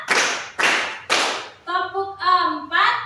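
Three loud, sharp hand claps spaced evenly in a classroom counting clap game, followed by a voice speaking in a singsong count.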